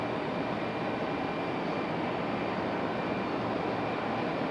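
A Copa Airlines airliner at Raleigh-Durham airport roars steadily in a broad, even jet rush, loud and unbroken throughout.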